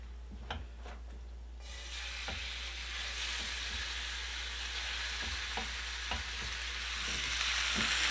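Pork sizzles steadily in a hot pan, a close, continuous frying hiss that swells louder, broken by occasional clicks of stirring.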